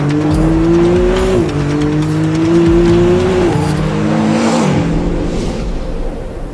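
A loud McLaren Artura sports car engine roars close by, its pitch climbing through several gear shifts with brief dips between them, no talking.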